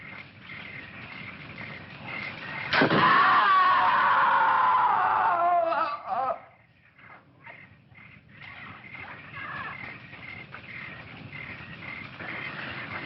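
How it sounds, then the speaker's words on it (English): A high, shrill scream rings out for a few seconds, then breaks off, leaving a quiet background with faint insect-like chirps. "Sure, I heard a scream."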